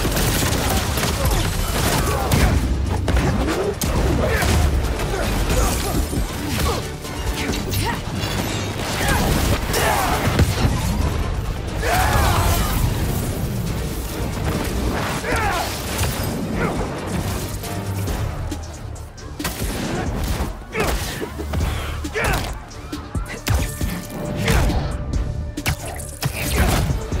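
Explosions and crashing combat noise in the Spider-Man 2 video game while fighting symbiotes with explosives, a continuous loud clatter of blasts, smashes and mechanical clanks under a busy game soundtrack.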